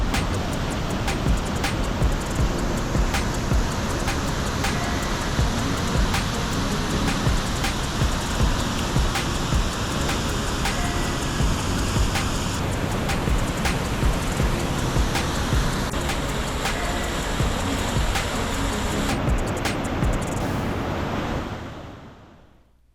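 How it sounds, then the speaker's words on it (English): Loud, steady roar of rushing water at Deception Falls waterfall, a dense broadband rumble that continues unbroken for about twenty seconds before cutting off abruptly. "The loud rumble of water was everywhere."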